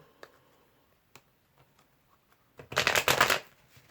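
A few soft ticks and taps, then a brief, crisp riffle of cards being shuffled up close.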